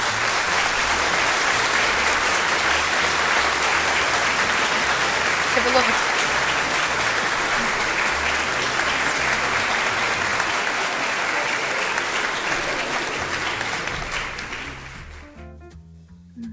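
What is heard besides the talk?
audience applause at awards ceremony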